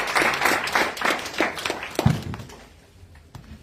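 An audience in a seminar room claps in a brief burst of applause that is loud at first, then thins out into a few scattered claps and taps.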